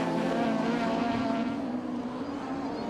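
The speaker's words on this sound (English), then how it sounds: "The Lotus Exceed blasting its way now with the back skipping into the air back towards tarmac" A Lotus Exceed race car blasts along a tarmac circuit. Its engine gives a loud, sustained roar, held at a steady pitch with only a slight dip.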